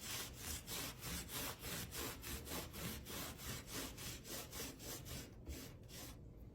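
Rhythmic back-and-forth rubbing of a rag wiping wax onto wood, about three strokes per second, close and soft, slowing and fading at the end.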